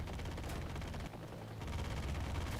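Twin M60 machine guns fire in War Thunder, AI gunners letting off a dense, continuous rattle that dips briefly mid-burst before resuming, fairly loud and steady.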